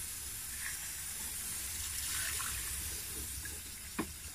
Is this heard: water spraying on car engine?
yes